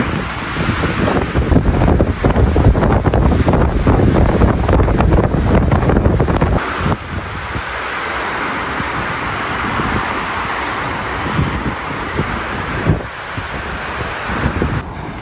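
Strong wind buffets the microphone at a windy campsite in Croatia, a loud rushing roar for the first seven seconds that eases to a steadier, slightly softer gusting.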